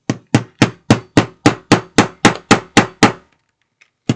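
A hammer pounds metal setters into a clear pencil case, with about eleven sharp, evenly spaced blows in quick succession, then a pause and one final strike, loud and close, with no one talking.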